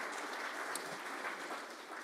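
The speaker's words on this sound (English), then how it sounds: "Give yourselves a round of applause." A Rotary Club audience in Tulsa claps together at a charity event, a steady even patter of many hands at moderate loudness with no break.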